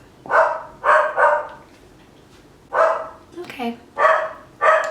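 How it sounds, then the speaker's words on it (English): A dog barks in quick bursts, mostly in pairs, close and loud indoors during a makeup session, with a brief spoken word between barks. "Hear my dog?"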